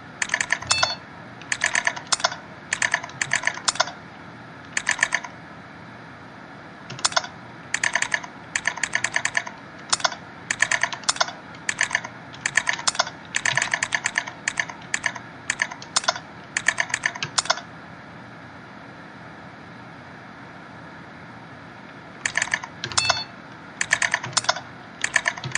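Fast bursts of close, crisp computer keyboard typing for data entry in a retro-style PC game, broken by short pauses and a longer gap before a final flurry of keystrokes.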